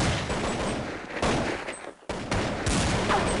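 Counter-Strike 1.6 gunfire at a LAN grand final on de_inferno: dense, loud bursts of shots rattle almost continuously, broken by a brief pause before the shooting resumes.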